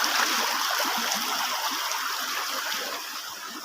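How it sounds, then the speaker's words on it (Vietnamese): A small waterfall feeds a flowing stream at a riverside fishing spot, giving a steady, close, full rushing and splashing wash of water that holds without a break and fades only slightly toward the end. "Chỗ này không có thác nha, thác nhỏ nhỏ thôi, không có thác lớn."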